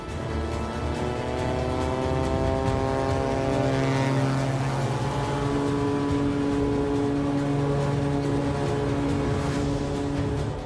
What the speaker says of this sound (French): Décoller depuis un glacier nécessite toute l'habileté d'un pilote chevronné.